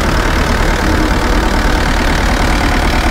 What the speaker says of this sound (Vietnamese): Đây, động cơ Isuzu 4RA1 nha anh em